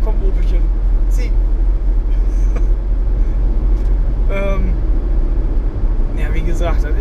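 An Opel car strains to pull a loaded trailer, its engine droning low and steady under road rumble, with voices speaking briefly over it.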